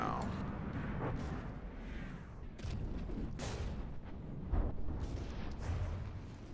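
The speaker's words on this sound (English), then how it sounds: "this torpedo's hit" Heavy underwater explosions from torpedo hits in the naval combat game From the Depths, a series of deep, rumbling booms with broad bursts rolling one after another, loud and close.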